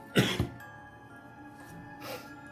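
A sharp double cough bursts out near the start, two quick harsh bursts up close, followed by a quieter stretch and a faint breathy sound near the end.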